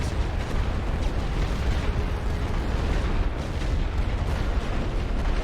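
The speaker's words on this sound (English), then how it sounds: "they're using artillery on my tank too" Artillery shells pound around a tank in the World War I strategy game The Great War: Western Front, forming a loud, continuous roar of overlapping blasts and rumbling explosions.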